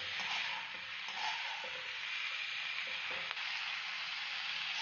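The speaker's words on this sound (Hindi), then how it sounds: "अब इसको थोड़ी देर भून लेंगे।" Vegetables and chillies for veg fried rice fry in a hot pan, giving a steady, close sizzle with faint stirring scrapes throughout and no talk.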